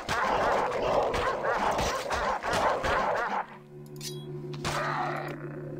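Dog barking in the video game Dungeon Siege amid a dense, noisy game soundscape, with a few short yelping barks in the first half before the mix thins to a quieter hum.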